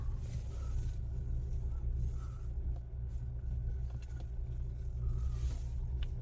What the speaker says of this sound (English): And we want to listen to the engine, so let me rev it up.